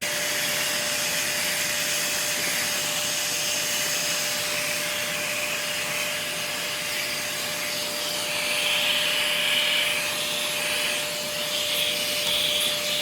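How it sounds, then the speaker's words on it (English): A vacuum cleaner runs continuously while cleaning out an old 1980s or 1990s PC, a loud steady motor whine with a fixed tone and shifting airflow hiss as the nozzle moves, with no talking. "after a painfully long time with the vacuum cleaner,"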